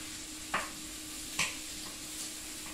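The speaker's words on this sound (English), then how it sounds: "I'm just gonna stir these around" Vegetables stirred through melted butter in a pan, a few sharp scrapes and clinks of the utensil over a steady low sizzle, close and fairly quiet.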